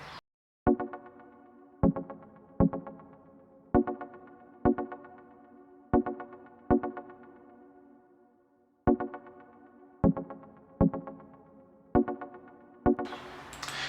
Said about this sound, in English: The preset I used is Arpeggios AR After Midnight 1.